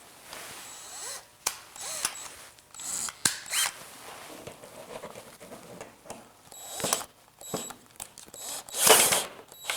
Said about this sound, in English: I'm going to remove the screw that we installed to hold this end of the fence in position.